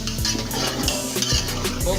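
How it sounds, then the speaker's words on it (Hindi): Carrots and peas being stir-fried over high flame for chicken egg fried rice, a constant sizzle with rhythmic scraping of a spoon against the pan, close and steady, no voices. "ये भी ऐड करेंगे और इसको भूनेंगे अच्छे तरीके से"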